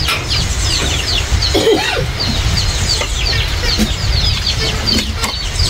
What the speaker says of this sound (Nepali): यति भात चाहिँ मेरो कुखुराहरूलाई छरिदिन्छु